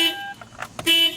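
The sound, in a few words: car alarm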